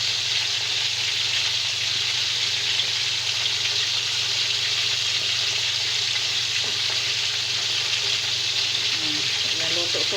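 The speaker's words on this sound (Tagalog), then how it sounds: "piniritong tuna" Tuna fish frying in a pan at home for dinner, a steady, continuous sizzle and crackle of hot oil throughout, close and even with no talking.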